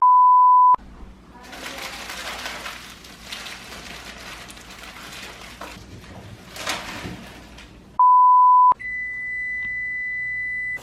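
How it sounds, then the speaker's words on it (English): An oven control panel sounds a long, steady electronic beep, then comes a stretch of rustling and handling noise, then a second matching beep, followed by a sustained higher tone. "we're gonna preheat the oven"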